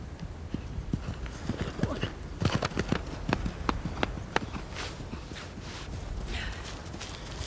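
A ridden horse's hooves clip-clopping on a hard surface in a British rural drama, a brisk uneven run of sharp hoof strikes close by that fades toward the end, with voices heard faintly.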